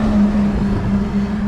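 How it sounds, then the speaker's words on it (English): A truck rumbles past on a road outside a general store, a steady loud low engine drone with a sustained hum filling the short stretch, no voices over it. "a truck just went by"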